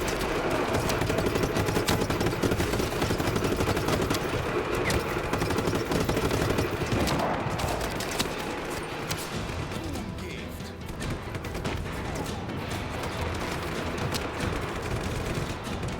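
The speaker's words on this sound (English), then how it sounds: "Where are they shooting from?" Dense, continuous gunfire and bursts of shooting in Just Cause 3, machine-gun rattle layered with heavy impacts and crashes, steady and loud for the whole stretch with no talking.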